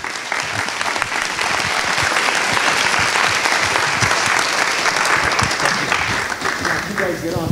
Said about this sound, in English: the Esquimalt Residents Association deserve a great applause for a job